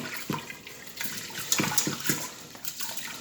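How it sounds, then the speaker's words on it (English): Basmati rice is swished by hand in a bowl of cold water, giving close, irregular sloshing and soft splashes in quick uneven bursts. "just cover it in cold water, just enough to cover it. Okay, just enough to cover it. And I'm just going to agitate it"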